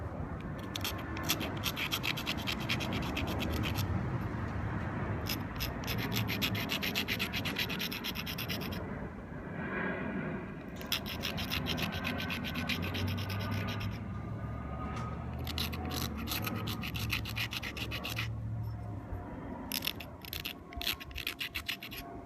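A hammer stone rubs against stone while a Clovis point is being made, producing long rough scraping strokes in repeated bursts with brief pauses between them, close and fairly loud throughout.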